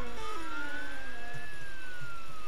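A police car siren in Roblox Jailbreak wails steadily, its tone rising slowly and then falling again, fairly loud over a constant low engine-like hum, with no talking.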